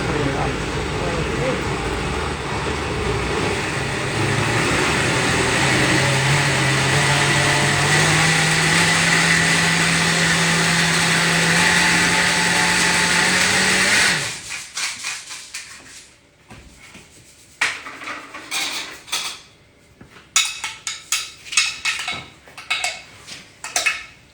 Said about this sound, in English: So this is going to put it into a siphon blender.